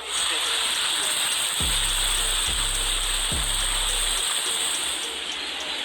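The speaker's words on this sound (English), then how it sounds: "Look at that hail. That's hail coming down." Hail pours down during a Caribbean tropical storm, a dense, loud, steady hiss of pelting ice with a few low thuds underneath.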